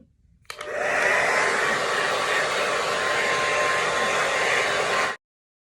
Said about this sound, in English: you're gonna turn it on, and you're just gonna like blow dry your hair all around